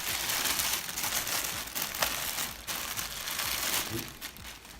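Plastic packaging around a large PC water cooling block crinkles and crackles continuously up close as it is handled and unwrapped, with short louder rustles.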